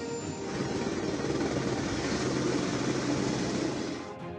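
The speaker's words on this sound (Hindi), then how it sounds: "इस दौरान हेलीकॉप्टर भी बचाव कार्य में इस्तेमाल किए गए" A helicopter flying over avalanche rescue operations in Chamoli gives a steady, loud rotor and engine roar that holds evenly for several seconds before easing off.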